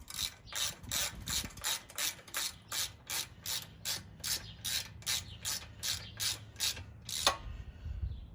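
A ratchet wrench tightens torque converter bolts to about 18 foot-pounds on a 40 series installation, with about fifteen steady, evenly spaced clicking strokes close up, ending in a final firm click, no talk.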